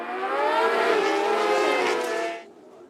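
Race motorcycles rev together at the start at Chuckwalla Valley Raceway, a loud sustained high-pitched engine whine with rising tones for about two seconds before cutting away.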